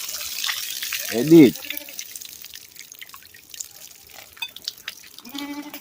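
Water splashes briefly onto a fruit tree beside an outdoor cooking spot in Jamaica, a short close gush followed by quiet dripping and people talking.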